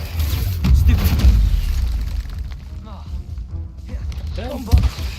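A Bombarda explosion spell in the Hogwarts Legacy video game, heard as deep, heavy booms with low rumbling, followed by a sharp late blast, while a person talks over the action.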